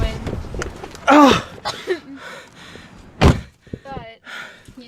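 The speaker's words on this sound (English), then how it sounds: "Oh, the wind's blowing, the door closed." A door is blown shut by strong wind at a convention, with a loud slam and a second heavy thud moments later, amid people talking nearby.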